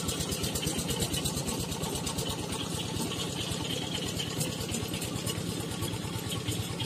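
A farm tractor engine runs steadily in a rice field, a loud, close, continuous chugging with a fast even pulse throughout.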